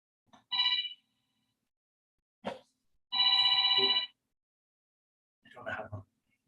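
A telephone bell ringing in a meeting room, three short bursts of bright trilling rings with silent gaps between them, brief voice sounds between the rings.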